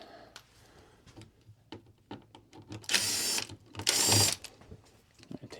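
Screws holding the filter of an RV air conditioner are driven out, with two sustained bursts of a power driver whirring amid scattered clicks and handling noises.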